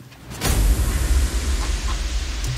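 A downlifter effect in a progressive house track made in FL Studio: a broad noisy sweep bursts in loud after a brief lead-in, then sinks and thins out over a couple of seconds, with no voices.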